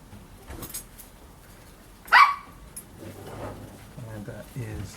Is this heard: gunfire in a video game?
no